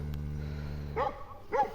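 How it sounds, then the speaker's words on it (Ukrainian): A loose dog on a village evening with cows nearby gives two sharp barks from some distance, over a steady low hum. "Чий собака одірвався з ципком."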